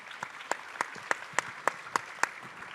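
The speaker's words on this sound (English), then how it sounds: "Let's just start with a huge round of applause for our panel." Audience applause for a conference panel at a plenary session, with one close clapper striking a steady, evenly spaced beat over softer, scattered clapping behind.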